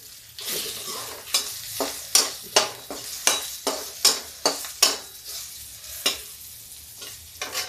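Spices with turmeric sizzling in a pan over low gas while a spoon stirs them, giving a steady frying hiss under regular scraping strokes roughly every half second, close and fairly quiet.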